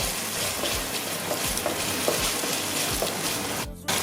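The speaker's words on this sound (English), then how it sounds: "So you add a bit of that in and then just stir it in." Tomato passata is stirred into vegetables frying in a pan for Congolese Madesu. A low, steady sizzle runs under soft, regular scraping strokes from the stirring, with no talking.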